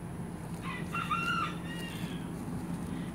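Backyard chickens, with a rooster crowing once at moderate distance over steady ambient noise, followed by faint hen clucks.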